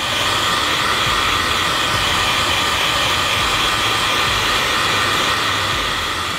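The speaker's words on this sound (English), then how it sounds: "we're gonna go ahead and dry that as well with a hair dryer" A hair dryer dries Halloween makeup at close range, a constant loud whooshing hum with no breaks from start to finish.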